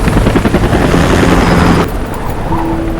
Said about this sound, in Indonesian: Keesokan harinya, mereka melihat helikopter penjemputan.